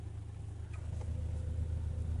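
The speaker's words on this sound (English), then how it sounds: "just recording this now, so you kind of see how it's running idle." Volvo 850R engine idling steadily at rest, a low even rumble that is quiet and constant, with no talking.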